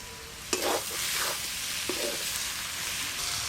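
Prawn and banana flower curry being stirred in a hot pan, with two or three distinct scraping strokes over a steady soft sizzle, close and moderately loud, with no talking.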